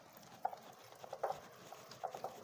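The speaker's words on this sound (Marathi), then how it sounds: "आता हे मिक्स करून घ्यायचं आहे, पूर्ण हाताने मिक्स करून घ्यायचं आहे एकदम।" Rice-and-potato bhaji batter mixed by hand in a home kitchen, giving soft, faint squelching pats in irregular bursts against a quiet background.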